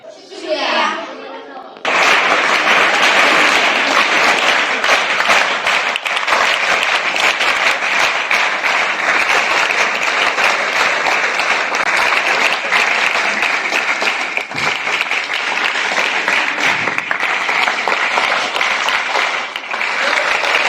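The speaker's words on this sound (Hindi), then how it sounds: "एक बार जोरदार तालियों से उनका स्वागत किया।" An audience gives loud, sustained applause after a children's short play, the clapping thick and continuous for about twenty seconds following a brief spoken moment at the start.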